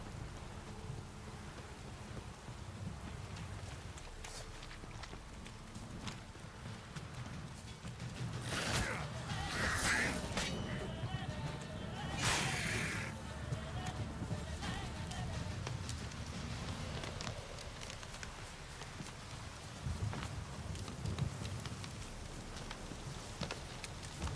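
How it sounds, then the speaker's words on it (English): Continuous rain falling in The Witcher 3, a steady broadband hiss that swells louder in the middle with a few sharper bursts, with faint low rumble and occasional muffled sounds beneath. "If it don't stop raining, my arse will rot off."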